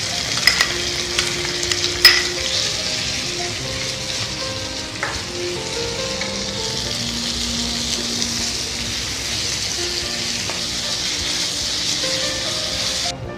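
Sliced onion with curry leaves frying in oil in a pan for egg masala, a continuous close sizzle with occasional stirring scrapes and a few sharper pops near the start, no talking.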